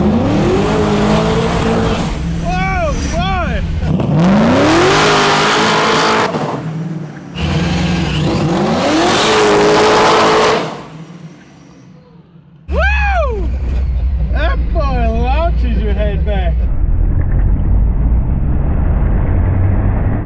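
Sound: 1000hp all wheel drive Cutlass launching hard

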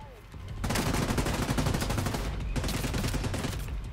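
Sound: gunfire in video game The Division 2

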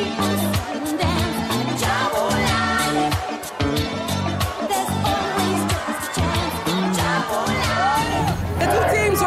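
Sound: crowd cheering at a BITS match

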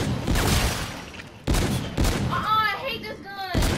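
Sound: gunfire in video game Call of Duty Infinite Warfare

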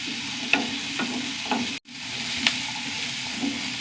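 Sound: frying food in a pan until browned

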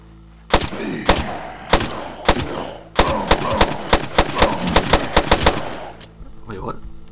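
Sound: gunfire shooting zombies in video game Land of Silence

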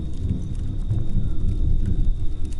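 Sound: thunder

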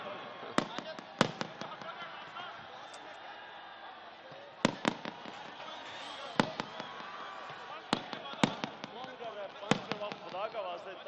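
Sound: fireworks exploding at a rally

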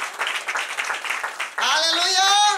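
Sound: applause

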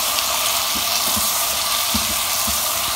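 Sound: chopped tomatoes sizzling in a pan while mixed

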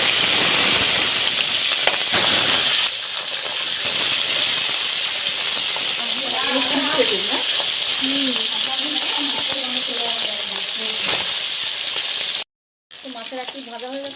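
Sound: small rohu fish frying in hot oil in wok

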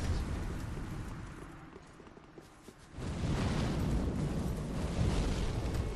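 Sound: bomb explosion in Dark Souls 3 video game

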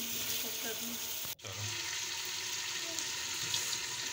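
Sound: beef paya frying in oil on high flame

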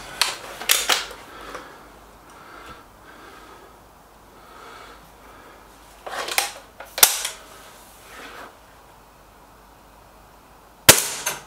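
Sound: suppressed air rifle shots, SMK XS36 and Stoeger RX20

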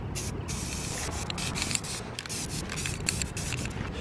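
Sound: spray painting a toy rocket blue

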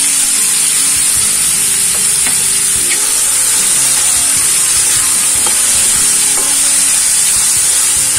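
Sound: mushrooms frying in hot oil

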